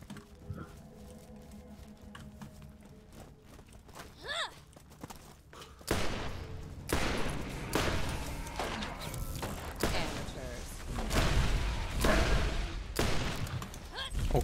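Gun in the video game Borderlands firing in scattered loud bursts of shots amid game noise, after a quieter stretch, with a voice talking at times.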